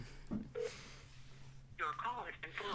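Telephone dialing tones on a phone during a podcast: a couple of short keypad beeps, followed by people talking.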